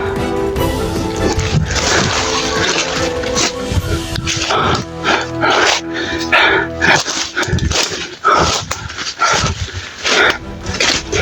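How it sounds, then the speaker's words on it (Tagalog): Several dogs bark loudly in repeated bursts, mixed with yips and whimpers, close by and dominating the scene without speech. "May mga aso tayo narinig."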